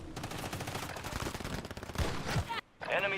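Rapid automatic gunfire in a PC shooter video game, dense bursts of shots crackling under a voice talking over them, followed by a brief drop to silence and a few more sharp sounds.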